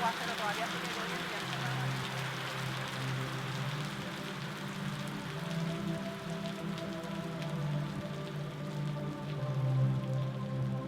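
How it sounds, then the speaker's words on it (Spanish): Rain falls steadily with a dense, even patter on surfaces, continuing throughout beneath people talking. "todavía sigue lloviendo"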